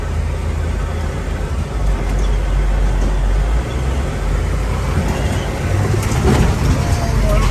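A military Humvee drives off-road, with a loud, continuous low engine rumble and heavy rolling road noise throughout, swelling slightly in places. A voice speaks briefly over the engine.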